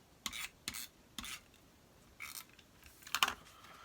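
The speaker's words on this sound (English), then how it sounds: "let's get our tape runner out" A tape runner lays adhesive onto a Halloween scrapbook page in a series of short, quiet, crisp scratchy strokes, several separate passes with brief pauses between them.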